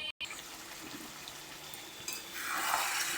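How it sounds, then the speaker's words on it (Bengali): Mutton curry simmering and sizzling in a pan, a steady soft bubbling hiss that swells louder toward the end, with no talk. "চলো মাংসটা এখন রান্না কমপ্লিট করে নিই"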